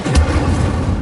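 Incendio, the fire spell in the Hogwarts Legacy video game, gives a brief, deep, rumbling burst with a sharp onset, loud and close, lasting about a second.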